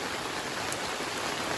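Heavy rain pouring onto a flooded campsite at Moose Brook State Park, a dense, steady roar of drops drumming close by with no voices.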